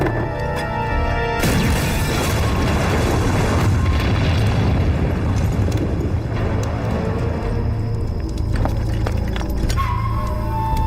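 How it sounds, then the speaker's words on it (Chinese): Hand grenades explode in a battle scene from a Chinese war drama about fighting Japanese troops, heavy booming blasts with a dense, rumbling roar that stays loud throughout about eleven seconds. "用我们的手榴弹炸他们的炸弹"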